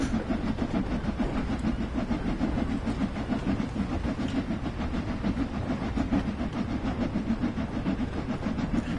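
In Train Sim World 2, a high-speed train on a French TGV line accelerates at full throttle, giving a dense, steady, loud rumble and motor drone with a fast clatter running through it and no gaps.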